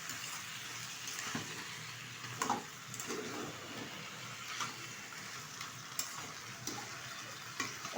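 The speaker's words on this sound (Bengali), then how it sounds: "আলুটা দেওয়ার পরে একটু নেড়ে চেড়ে নিচ্ছি" Fried potatoes are stirred into chicken cooking in a pan, a soft continuous sizzle broken by several sharp scraping and clinking stirs spaced a few seconds apart, with no talking.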